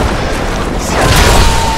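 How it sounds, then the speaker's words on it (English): A fire spell cast in Wo Long: Fallen Dynasty lands as a loud, deep whooshing boom with a roaring burst that swells toward the end, heard alone without talk. "I'm using the fire spell too."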